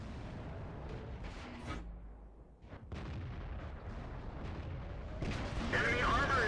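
Low-tier artillery in a World of Tanks battle firing and landing a shell on an enemy tank's track, muffled booms and rumbling impacts under a game voice line, rising at the end.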